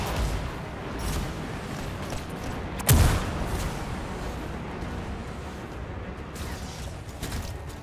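Enemy weapon fire in the shooter game Anthem: a single sharp blast cuts through about a third of the way in, surrounded by a constant low rumble of distant battle.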